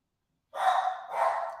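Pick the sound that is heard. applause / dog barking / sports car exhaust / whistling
dog barking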